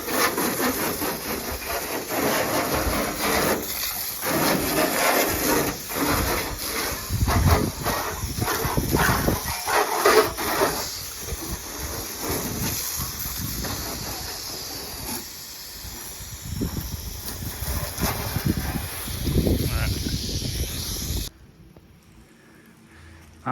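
A steady, loud hiss of water spray rinses down a 1993 Ford F150 pickup, continuous rushing and splattering for about twenty seconds before cutting off abruptly.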